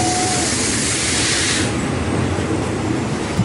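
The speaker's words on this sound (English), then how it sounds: "Our train's arrived." A train rolls in with a loud, steady roar and hiss of rushing air, close by and filling the whole moment.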